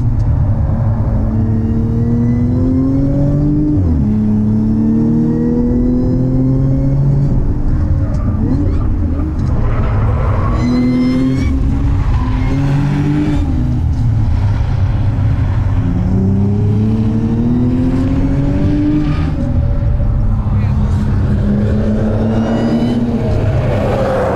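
A powerful car, either an Audi S5 Stage 3 or a Tesla Model S 85, driven hard around a race track, its engine rising and falling loudly through repeated accelerations while people talk over it.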